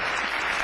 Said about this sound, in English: We were cheering you on